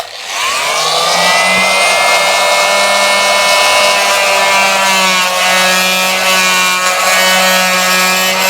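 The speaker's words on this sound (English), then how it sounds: "It's a little vibrating blade that goes back and forth." Oscillating multi-tool blade cutting through a wooden architrave during an IKEA PAX wardrobe install, a loud continuous high buzzing whine held for about eight seconds, close and with no talking.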